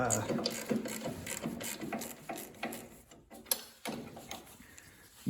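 A ratchet clicks in quick bursts while loosening a bolt during rear drum brake work on a VW Beetle, close and moderately loud, with brief pauses and clanks between strokes.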